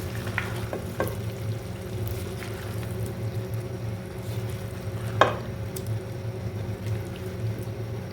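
Potatoes, tomato and green chilies being stirred together in a pan, a low steady frying hiss throughout with faint scraping strokes and one sharper clink near the end, no talking.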